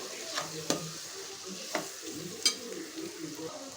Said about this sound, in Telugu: కారం వేసుకున్నాం కదండి కలిపేసుకుందాం